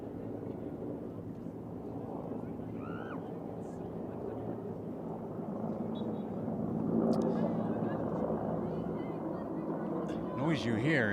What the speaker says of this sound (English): Noise you hear is 3 military helicopters flying over the stadium.